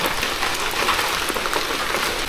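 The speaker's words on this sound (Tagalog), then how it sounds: "ulan." Rain falling on a mountainside cemetery, a dense, steady hiss of drops close by and fairly loud throughout, with no voices.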